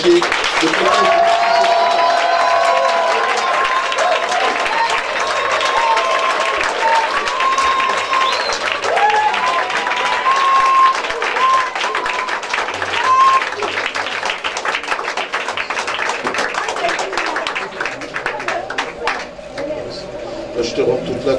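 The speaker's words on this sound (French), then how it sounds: "Je te demande tout simplement d'acclamer le maréchal de la brigade France" A congregation at a church retreat applauds the marshal with sustained, dense clapping that fills the hall steadily for a long stretch, with a voice speaking over it.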